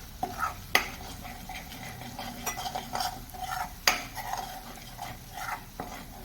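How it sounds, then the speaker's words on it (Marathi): Garam masala and powdered spices are stirred in hot oil in a pan, with scraping spoon strokes and occasional sharp clinks of utensil on metal over a faint sizzle, close and fairly quiet. "गरम मसाला सर्व पावडर मसाले जे आहेत ते आपण आता तेलावर व्यवस्थित परतून घेऊया"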